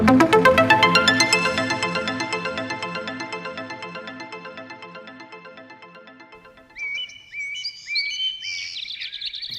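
A little bird chirps high and thin near the end, following a fading run of resonant ringing tones.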